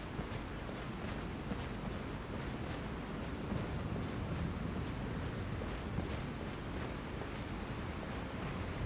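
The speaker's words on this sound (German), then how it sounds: "Ich höre den Wasserfall im richtigen Ohr." A waterfall in the video game Skyrim. It comes through as a constant, fairly faint rushing wash of noise that stays even from start to finish, with no speech.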